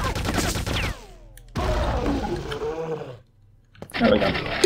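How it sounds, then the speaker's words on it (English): A grenade blast in the shooter game Quake 2 comes through amid loud, layered game action, with booming bursts, sweeping tones and a heavy rumble, then a brief lull before another loud burst. "A grenade should do the trick."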